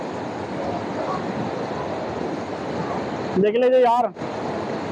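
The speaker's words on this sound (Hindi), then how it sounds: "यहीं से पूरा पानी जाता है" Water pouring out of the Manjhar Kund pool near Sasaram, Bihar, a steady close rushing roar throughout, briefly overlaid by a short spoken phrase near the end.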